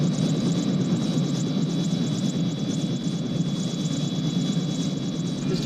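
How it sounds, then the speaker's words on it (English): A helicopter's engine and rotor drone steadily at a distance, a continuous low rumble with a faint high whine that holds level throughout, with no talking over it. "isn't that your helicopter over there?"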